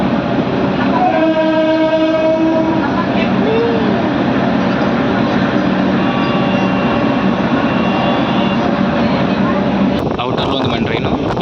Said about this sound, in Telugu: అక్కడ ట్రైన్ కనిపిస్తుంది చూసారు